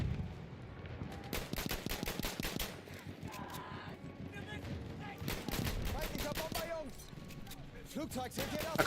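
Rapid gunfire in the first-person shooter Battlefield 1, with bursts of automatic shots and sharp single reports that rise and fall over the game's battle noise, while players talk under it.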